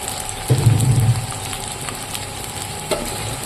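Shrimp shells drop into a hot pan and give a loud, crackling burst of frying that settles into a steady, close sizzle with a few sharp pops.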